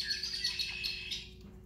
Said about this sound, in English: a red bird with black wings. And that's the sound they make.